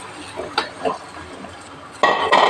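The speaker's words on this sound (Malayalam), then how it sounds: "എന്നിട്ട് നന്നായിട്ട് ഇളക്കാം" Chicken curry with chicken masala being stirred in a pan, with spoon scrapes and clinks against the metal in a few short bursts, then louder sustained scraping toward the end, close and fairly clear.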